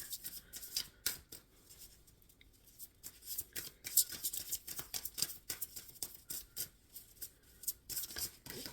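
Tarot cards are shuffled close up, producing soft, quiet riffling and rubbing with irregular papery flicks and slides.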